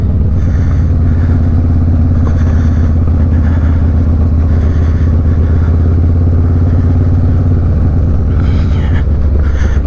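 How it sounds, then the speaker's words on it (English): A Harley-Davidson Low Rider S with a 117 engine and a Red Shift 468 cam rides at speed, its V-twin exhaust a loud, continuous, throaty rumble close to the microphone, with wind buffeting mixed in. "we'll take it for a test ride and we'll see how it feels"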